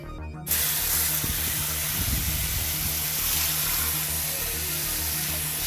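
Cold tap water gushing into a home brewing kettle, a Braumeister clone, as a steady broad hiss that starts abruptly after a brief moment and runs loud and even to the end.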